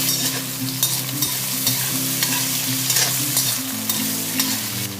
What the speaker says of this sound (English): I'll add the potatoes and I'll roast for around 3 to 4 minutes